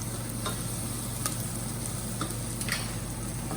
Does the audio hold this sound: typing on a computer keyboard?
no